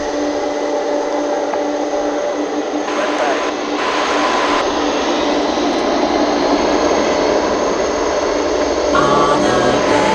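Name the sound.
UPS MD-11 cargo jet taking off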